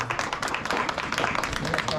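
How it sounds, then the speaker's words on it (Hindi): Guests at a village retirement party clap, the scattered claps rising in and out while people talk over them. "जोरदार तालियां आप लोग बजाएंगे"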